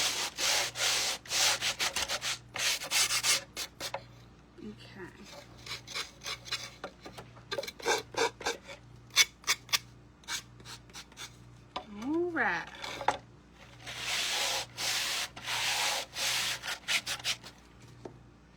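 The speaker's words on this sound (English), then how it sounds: "What is the sand block you are using? This one is an 80 grit" Pallet wood is rubbed with an 80 grit sanding block in repeated close scratchy strokes, bursts separated by short pauses, with a steady low hum underneath.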